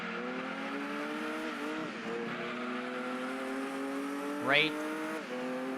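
Race car engine from the Gran Turismo 2 video game drones steadily with shifting pitch through gear changes, a quick rising whine near the end, and a single short word spoken over it.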